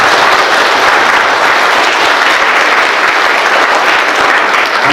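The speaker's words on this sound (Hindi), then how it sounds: "अरे एक बार ताली बजाएंगे जोर से।" A church congregation at a Christian worship service claps loudly and continuously, a dense, sustained roar of applause filling the room.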